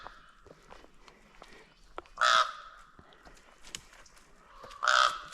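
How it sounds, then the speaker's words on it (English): A raven calls twice outdoors during a trout fishing trip, each call a loud, harsh croak spaced a few seconds apart, with faint scuffs and small noises in between. "That's not a crow, that's a raven. And ravens make the coolest sounds."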